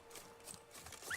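Horse hooves clip-clop at a steady walking pace with a brief neigh in The Witcher 3, moderately close over a faint ambient background hum.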